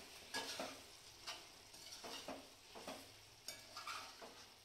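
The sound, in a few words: stirring curd (yogurt) into chicken biryani in a pot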